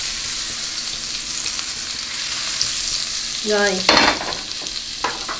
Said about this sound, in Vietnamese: Mình để bơ vô ha. Mình để cái chảo nóng quá.